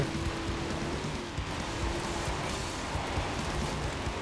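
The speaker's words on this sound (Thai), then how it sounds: "บวกกับฝนตกด้วย นี่ลื่นกระจาย" Rain in the racing game Forza Horizon 4, a dense continuous patter under a steady engine drone from a Dodge Charger on a dusty rally stage, with no speech.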